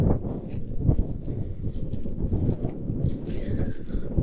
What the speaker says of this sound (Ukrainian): вітряно дуже сьогодні